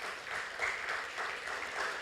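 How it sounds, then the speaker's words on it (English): Audience applause for a keynote speaker at a youth leadership program event in Jeddah, a dense, steady clapping that fills the room without pause, with no voices above it. "A big round of applause for Mr. Marwan Dashash."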